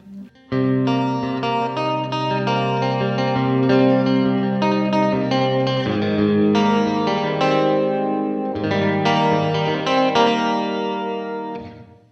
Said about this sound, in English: This is with a doubler and reverb in the middle only pickup.